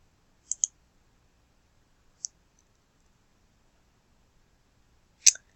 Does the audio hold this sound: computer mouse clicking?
yes